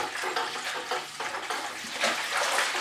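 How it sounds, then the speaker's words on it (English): Hot water gushes from a broken tap into the tank of a Vax Automop floor cleaner, a steady, close, rushing splash with no talk over it. "We get some hot water going."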